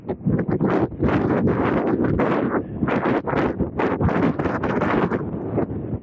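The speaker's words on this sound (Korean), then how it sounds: "왜 이렇게 바람이 세졌지?" Strong gusting wind buffets the microphone on a bicycle ride along a riverside route, a loud continuous roar rising and falling in waves with no speech.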